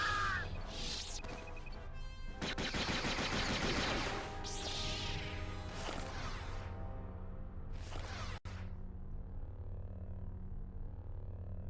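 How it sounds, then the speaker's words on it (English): Blaster gunfire in the Star Wars Jedi Knight: Jedi Academy video game, bursts of rapid shots and whooshing blasts over a constant low hum, with a sharp crack near the end before the firing thins out. "Oh yeah, I'm getting shot at."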